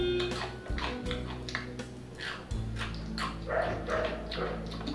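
A dog barks several times at close range in a series of sharp, spaced woofs over a low steady background hum.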